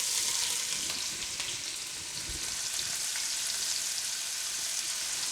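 Onion frying in bacon fat in a pan, a bright steady sizzle with faint crackles and a brief stir, close and even in level, no voices.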